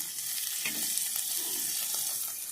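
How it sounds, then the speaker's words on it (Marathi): Chopped onion frying in oil in a pan for a village-style peanut chutney gives a steady, close crackling sizzle with light stirring throughout, and no voices. "इथे जरा तेल घालून परतून घ्यायचं आहे आपल्याला कांदा"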